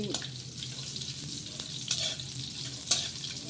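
Onion and garlic fry in a pan with a steady, soft hiss and faint crackle, plus a few brief stirring clicks, close and low in level.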